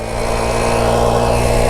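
An old motorcycle, revived after sitting for seven years and running on super skinny tires, holds a loud, steady, close engine roar at full throttle with no talking.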